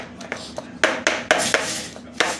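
Tapping a cake tin filled with chocolate oat cake batter on a hard surface, with several distinct taps in an uneven rhythm, close and moderately loud. No one speaks.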